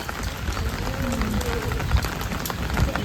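Heavy rain pours steadily nearby, a dense, even hiss with scattered louder drops and no voices.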